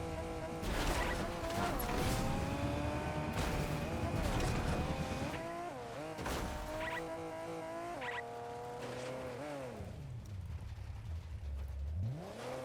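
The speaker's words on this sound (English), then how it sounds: "This car's kind of shambles." A car in Fortnite drives with a loud, continuous engine drone whose pitch rises and falls as it revs and shifts, with occasional tire squeals and scraping noises near the end.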